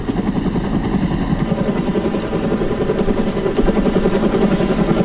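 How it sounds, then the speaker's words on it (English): A helicopter in the video game ArmA: Cold War Assault keeps up a steady, loud rotor and engine drone for the whole stretch, with a faint high whine on top and no talking. "And you can already hear the chopper."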